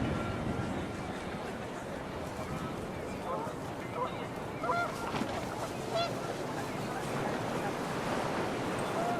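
Geese honk in scattered bursts in the video game What Remains of Edith Finch, over a constant rushing wind and surf-like roar, with a voice murmuring underneath.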